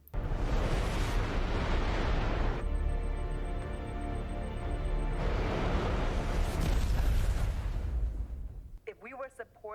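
A ship exploding in the sci-fi series The Expanse, a long, heavy roaring rumble that swells, briefly gives way to a steady tone, then builds again before cutting off, with voices near the end.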